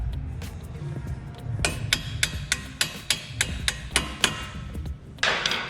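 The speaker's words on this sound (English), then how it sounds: "put the nut back on and give it a few taps with the hammer" A hammer taps repeatedly on a nut threaded onto a stuck lower bolt during a Subaru Crosstrek lift kit install, about ten sharp metallic strikes in a steady rhythm, close and clear over a low background rumble.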